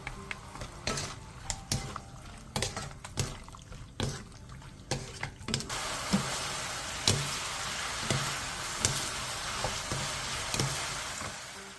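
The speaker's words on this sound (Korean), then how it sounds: "중약불에서 마늘이 익을 때까지 2분에서 3분 정도 볶아주세요" Minced garlic with soy sauce, oyster sauce, sugar and corn syrup being stir-fried over medium-low heat: regular scraping strokes of a utensil in a pan, then a louder, steady sizzle with continued stirring and no talking.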